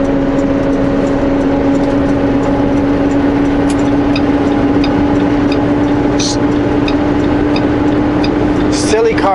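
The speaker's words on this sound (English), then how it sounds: "Logging truck." A logging truck drives along a road, its steady low engine drone and tire roar continuing unbroken and fairly loud throughout, with a few faint higher clicks and a brief rising whine near the end.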